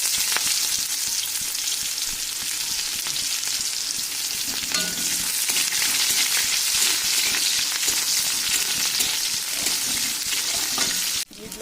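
Onions dropped into hot oil with black cumin seeds for cooking dried fish with Malabar spinach, giving a loud, steady sizzle and crackle of frying throughout, with no talk.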